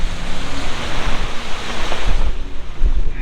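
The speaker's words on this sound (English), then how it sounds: "all of a sudden this wind just kicked up" Strong wind gusting across a campsite in Grand Teton country, a loud, roaring rush battering the microphone with deep buffeting thumps, continuous and close with no voices.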